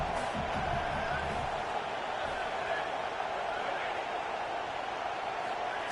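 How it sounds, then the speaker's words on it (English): Home crowd noise from a college football video game, a steady, loud stadium roar with cheering that holds throughout while commentary voices talk over it. "Man, this crowd really affecting the football game."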